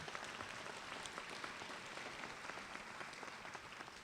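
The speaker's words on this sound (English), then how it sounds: "Let's give her a round of applause." An audience claps steadily at the 2017 Utica Alternative Learning Center graduation ceremony, a sustained, even round of applause that sounds soft and somewhat distant throughout.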